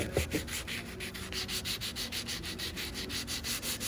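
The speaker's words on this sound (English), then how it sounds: "so I'm gonna sand across it like this" Rhythmic hand sanding across the seams of a 1979 Ford Bronco RC rock crawler body, steady back-and-forth rubbing strokes, close and moderately loud, with no talking.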